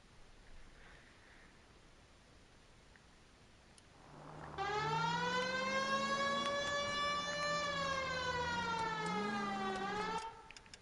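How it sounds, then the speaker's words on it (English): A video game siren wails steadily with a rising and falling tone, starting abruptly and sounding continuously for about six seconds before cutting off, loud and alone. "the siren basically stays on the entire time."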